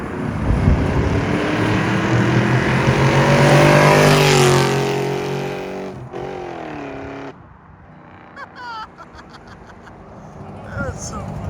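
A BMW 740i passes by loudly, its engine note swelling to a peak and then fading as it moves away, with people talking afterward.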